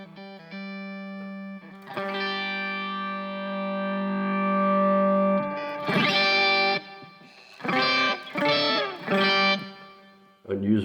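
An electric guitar played through a Headrush octave-up effect with the first octave set at 1%, giving bright, buzzy, processed notes: a long sustained chord, then several short choppy strums near the end.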